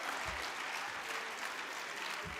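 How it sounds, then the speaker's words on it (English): Conference audience at a national construction summit applauding the program director, a dense, steady crowd clapping that stays even throughout, heard from within the hall. "Let's give the program director a big round hand of applause."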